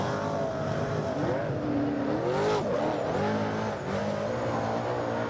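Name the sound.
super saloon race cars racing on a track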